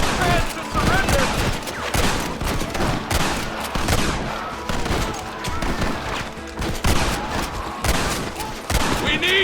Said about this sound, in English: Pull the damn trigger, Marston!